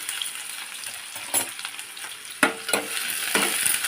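Ivy gourd and onions frying in oil in a pan, a continuous close sizzle with several sharp bursts and scraping stir strokes, loud and unaccompanied by speech.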